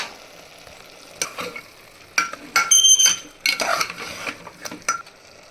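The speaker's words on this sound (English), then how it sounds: "red chili powder, garam masala powder, and mix them thoroughly" Mutton is stirred with red chili powder and garam masala in a pan, giving a soft sizzle under repeated scrapes and metallic clinks of a spoon against the pan in uneven bursts.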